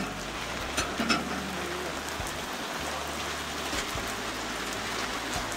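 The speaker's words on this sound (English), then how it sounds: "it just starts freaking raining again." Rain falls steadily outdoors on a farm during first-crop haylage work, an even, moderately faint patter and hiss with no pauses and no talking.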